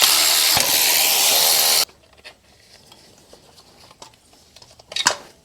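Loud power-tool whir lasting under two seconds, then quieter metallic clinks and tool clatter, with a last short burst near the end, while a turbo actuator is removed from an Audi A8 4.0L engine.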